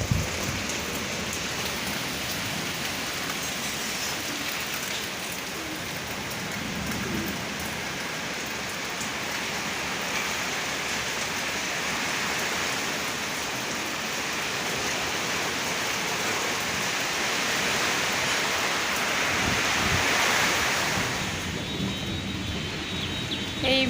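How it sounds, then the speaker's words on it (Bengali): Heavy rain pours down steadily during a storm in a dense, hissing roar, loud and unbroken throughout, with no voices. "একবার বৃষ্টির শব্দটা শুনো তোমরা"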